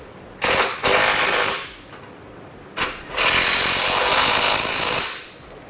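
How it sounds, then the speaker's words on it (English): A wrench torques the bolts of a Blue Ox base plate on a 2011 Chevrolet HHR in two bursts of ratcheting clicks, each a second or two long, close and fairly loud. "find our torque specifications, and torque them down appropriately"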